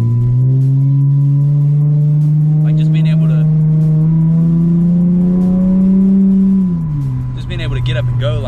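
A lowered V6 car accelerating hard, recorded from inside: a loud, close engine note climbs steadily through the rev range, then drops briefly on a gear change before pulling again.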